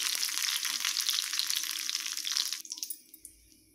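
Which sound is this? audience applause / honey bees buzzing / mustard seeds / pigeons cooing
mustard seeds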